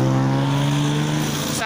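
A loud car passes close by on a city street in Taguig, giving a steady, droning engine roar that fills the short moment at high volume.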